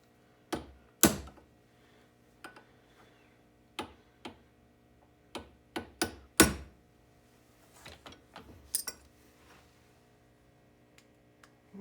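A hammer taps on metal parts during carburetor assembly, a dozen or so sharp, close knocks at irregular intervals over a quiet background hum, with no talk.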